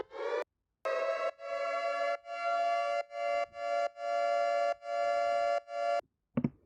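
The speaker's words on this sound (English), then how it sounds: "We got a siren." A synthesized siren in a tearout bass music track sounds as a steady, harmonically rich tone, chopped into rhythmic gated bursts sidechained to a kick, loud and alone, ending in a short low hit.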